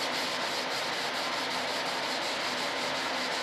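Worn 600-grit sandpaper rubbed over the surface of an RC F-105 Thunderchief jet model, a close, continuous scratchy rasp with a fast, even back-and-forth stroke rhythm and no talking.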